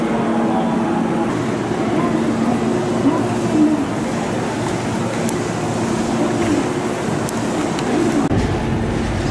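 Hankyu Railway trains at Osaka Umeda station, a terminal served by the Kyoto, Takarazuka and Kobe lines, give a steady, loud rumble of rolling cars and station ambience that runs unbroken through the whole stretch.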